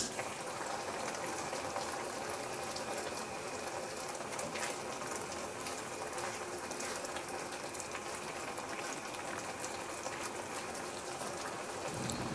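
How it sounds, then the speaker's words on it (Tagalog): Coconut milk with mung beans boils in a pot, a steady bubbling and fizzing simmer heard up close throughout, with no voices over it. "Antayin lang natin kumulo yung gata para maluto."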